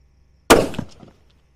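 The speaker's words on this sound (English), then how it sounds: "this Tikka T3x Superlight still holds its own, still shooting good" A single sharp report from a Tikka T3x Superlight rifle cracks out of near silence, loud and close, then decays over about half a second with no voices.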